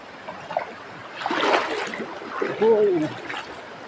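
Someone wades across a stream, with water splashing and trickling around their steps while people talk nearby.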